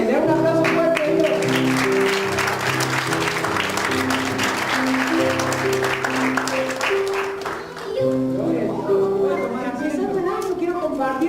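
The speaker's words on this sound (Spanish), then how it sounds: "Den un aplauso fuerte a Dios." A church congregation claps loudly in praise to God during a worship gathering, with sustained applause mixed with music and voices carrying over it throughout.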